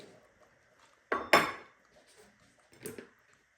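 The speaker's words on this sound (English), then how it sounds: "Now we're going to put the lid on." Someone sets the lid on a slow cooker of pork chops: two quick, close clattering knocks as the lid settles, then a softer clink a moment later, with no talk.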